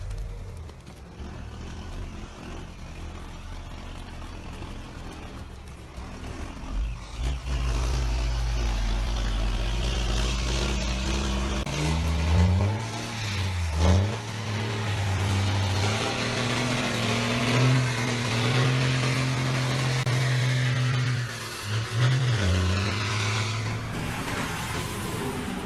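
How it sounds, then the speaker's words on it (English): The heavy diesel engine of a big wood logging truck roars as it accelerates hard along a road edge, loud and continuous, rising and dipping in pitch as revs climb and shift. "he pressed hard on the gas and moved along the edge of the road"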